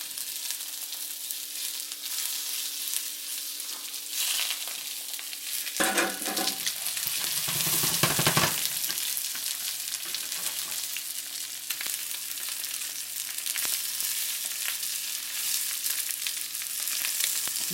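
Fish stir-fries in a wok with chili bean sauce, producing a loud, continuous hissing sizzle with bursts of stirring and sputtering throughout, with no talking.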